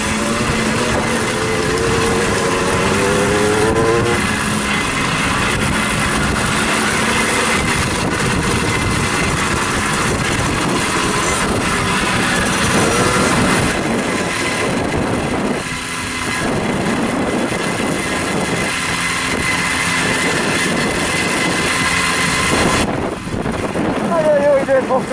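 Small offroad Babetta moped engines drone steadily nearby at an event in Dunaföldvár, mixed with heavy wind buffeting the microphone, and people talk over the noise.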